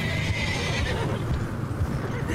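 A horse in Red Dead Redemption 2 whinnies loudly and close by, a sustained neigh over soft clip-clop of hooves, alone with no talk.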